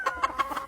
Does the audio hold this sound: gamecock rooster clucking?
yes